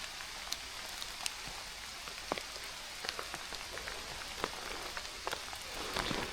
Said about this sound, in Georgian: საკმაოდ ძლიერად წვიმს.